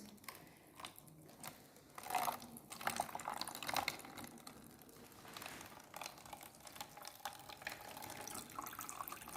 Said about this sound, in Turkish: Evet şu anda ilk su damlacıkları dökülüyor görüyorsunuz